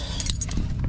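Car keys jangle briefly near the listener, a cluster of small bright metallic clinks over a steady low background rumble.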